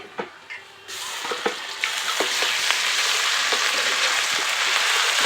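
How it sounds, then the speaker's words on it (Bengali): Onion paste added to chopped onions frying in oil for a crab curry, starting with a few soft crackles, then a steady loud sizzle with scattered pops and spatters throughout, no voices. "পেঁয়াজ বাটা দেবো।"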